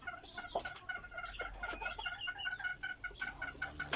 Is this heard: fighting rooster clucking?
yes